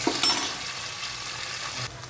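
Green chilies and curry leaves frying in hot oil while stirred in a pan for egg masala, a close, steady sizzle with a brief louder burst at the start and soft scraping.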